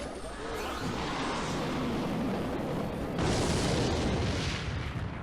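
A rocket spell blasts a target in a mobile strategy card game, a dense roaring explosion with rumbling debris that sustains for several seconds and swells again near the end, loud and without talk.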